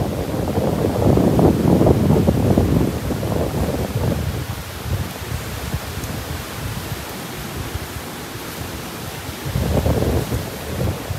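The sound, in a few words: rain with thunder on a beach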